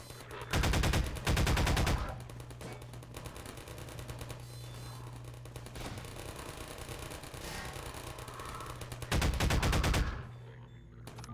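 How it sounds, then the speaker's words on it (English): Automated turrets in the video game Half-Life 2 fire two rapid bursts close together, then keep up a steady rattle of softer fire, and end with another loud burst. "These turrets have been doing a pretty good job."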